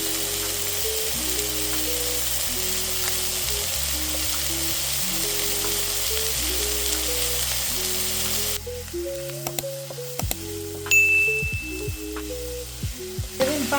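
Onions and garlic sizzle in olive oil for a traditional Albanian carp casserole sauce, a loud, steady frying hiss that drops away partway, leaving sparse crackles and clinks of stirring.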